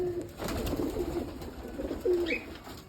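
Pigeons coo softly in low repeated calls against a faint background hum, with a brief higher chirp near the end.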